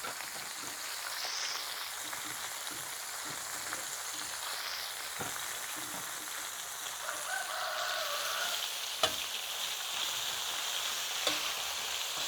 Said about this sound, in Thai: ผัดผักกันจองให้นุ่มก่อน